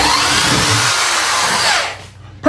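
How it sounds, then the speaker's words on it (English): A power drill bores into a wooden board in a home shop, a loud, close, steady whine lasting almost two seconds before it winds down and stops, followed by a short sharp noise. "Now I'm trying to drill"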